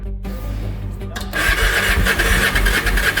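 A motorcycle engine cranks and sputters, then catches and roars into a rough, loud running idle, close by.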